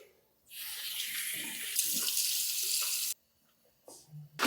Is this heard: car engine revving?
no